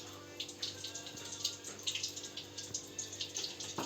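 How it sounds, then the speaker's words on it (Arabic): Hot sugar syrup being poured over a freshly baked semolina cake (harissa), a soft continuous trickling, splashing liquid sound with small irregular splashes, close and fairly quiet, with no talking. "هلا وهي سخنة بنضيف عليها الشربات"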